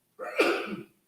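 One short, close sneeze from a person indoors, a quick sharp burst that rises and fades within under a second against silence.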